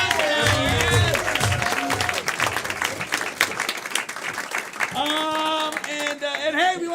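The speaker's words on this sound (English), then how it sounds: "let's also keep that applause going for all our volunteers that helped us out today" Audience applause at a live comedy show, a dense wash of clapping from a crowd that keeps going under a speaking voice and music throughout.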